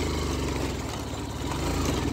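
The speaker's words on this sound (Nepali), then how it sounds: "अब यहाँ बाइकले तान्दै नसक्ने अवस्था आउँछ यहाँ चाहिँ" An old motorbike engine labours on a steep uphill climb, a dense, loud chugging drone with a rapid low pulse, close and steady throughout without talk.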